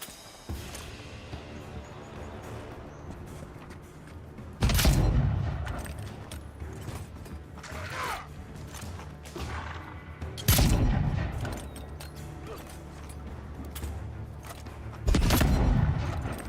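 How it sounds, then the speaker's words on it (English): A gun in the video game Avowed fires three heavy, booming shots spaced roughly six seconds apart, each loud and close with a decaying rumble, over a faint ambient background. "the shooting speed is very slow on this thing"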